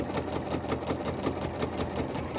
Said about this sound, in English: you lower your presser foot and continue sewing.